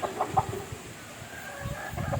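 A chicken gives a few close, soft clucks and short throaty calls, with brief quiet gaps between them.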